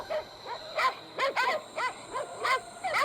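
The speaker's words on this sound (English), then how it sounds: "I've never heard so many dogs." Many dogs bark and yip at once, a busy overlapping cluster of sharp barks and whimpers coming in quick bursts, fairly close and loud.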